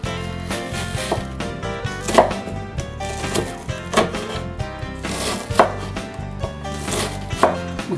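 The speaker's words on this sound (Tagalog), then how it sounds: "ako ay maghihiwa ng sibuyas" Onions being chopped with a knife on a board while a pork asado dish is prepared, a steady run of quick, close rhythmic knocks with slightly louder accents, no talking.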